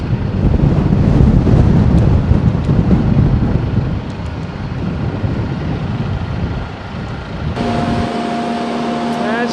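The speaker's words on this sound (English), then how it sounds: "And it's a windy day today" Strong gusting wind buffets the microphone at a boatyard during a yacht haul out, a steady roaring rush throughout, with a faint mechanical hum coming in near the end.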